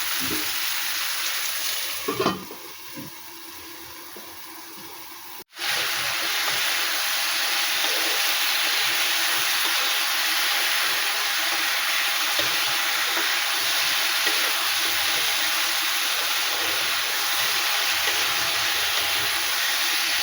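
Ridge gourd and potatoes sauté with coriander, cumin and chilli in a covered pan, giving a steady soft sizzling hiss that runs unbroken, with a brief clatter near the start.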